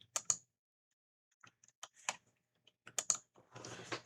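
Keystrokes on a computer keyboard as a shutdown command is typed on an HP EliteDesk G5 PC: short clustered clicks in two quick bursts, then a scattered run and a denser patter of taps, close and clear with no talking.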